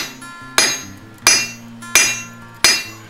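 Hammer blows on hot iron at an anvil, forging a scarf for an eyelet for a barn door: four sharp ringing metallic strikes spaced evenly about two-thirds of a second apart, each decaying with a bright clang, close and loud.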